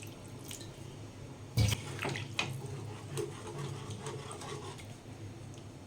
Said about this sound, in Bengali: এর মধ্যে এবারে আমি পরিমাণ মতো জল দিয়ে দেব।